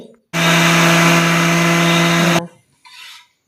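A blender whirs loud and steady for about two seconds, pureeing carrots into juice, then cuts off abruptly, followed by a brief softer rustle.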